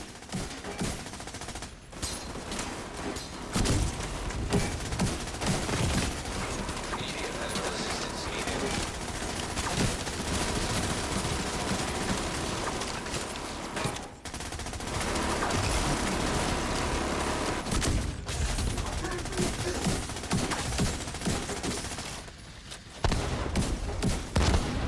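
Dense, sustained gunfire from shooting enemies in The Division 2, loud and near, rapid bursts filling the stretch almost without pause, with brief dips between volleys, and no talking.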